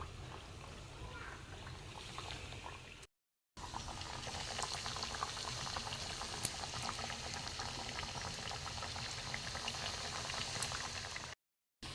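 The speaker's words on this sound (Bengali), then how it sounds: "বন্ধুরা চিনির রস ফুটছে" Sugar syrup with cardamom boils steadily in a pan, a continuous bubbling and gurgling that runs throughout, broken by two short silent gaps.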